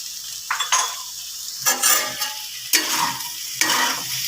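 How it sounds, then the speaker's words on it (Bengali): Vegetables and spices for Bengali shukto stir-fried in a pan, with a few bursts of scraping, clattering stirring over a soft sizzle, alone and close. "দু তিন মিনিট ভালো করে সব সবজির সাথে মশলাগুলো কষিয়ে নেব"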